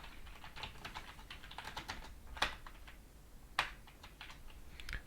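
Code is typed on a computer keyboard in quick, uneven bursts of light clicks with two sharper key strikes, quiet and close, with no talk.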